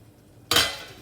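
A lid is set over a pot of simmering homemade tomato pizza sauce, giving a single close clatter that rings briefly and fades against a soft background.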